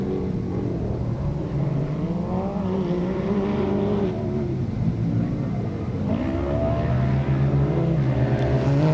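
An ATV racing at Glen Helen Raceway enters the motocross section, its engine droning loud and steady with rising and falling revs throughout, close and continuous.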